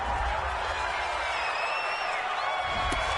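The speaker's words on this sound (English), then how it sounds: "This home crowd, they're happy with that call." A home crowd roars approval at a referee's call in a packed NFL football stadium during a Browns at Broncos game, a dense sustained wash of cheering and whoops, with faint voices underneath.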